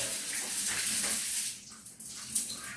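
Water gushes from a hand shower with strong pressure, a loud, close hiss that briefly dips and splashes partway through.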